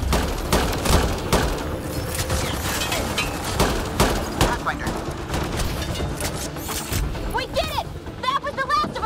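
Rapid bursts of gunfire in the Mass Effect Andromeda video game, dense crackling shots in quick succession throughout, with a voice shouting briefly amid the firefight.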